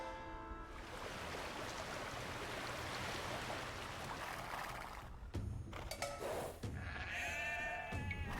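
Sheep bleat in the Age of Empires II video game, a few wavering bleats over a steady wash of water or ambient game sound, with no talking.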